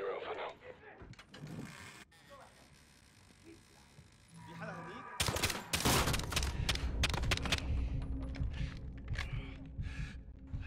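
Video game gunfire from Modern Warfare (2019): quieter action with a voice at first, then a sudden loud burst of rapid shots from about five seconds on that continues as dense, close fire.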